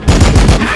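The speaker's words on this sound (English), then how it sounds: "Opening fire!" Machine gun fire in the video game Warhammer 40,000: Battlesector, a loud, close burst of rapid, evenly spaced shots with heavy low thumps.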